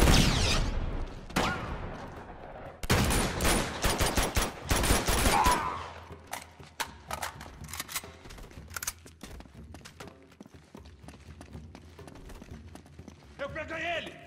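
Rapid gunfire bursts and a grenade blast in the Uncharted 2 video game, loud and dense at first and then thinning to scattered shots and clatter, with a voice shouting over the action.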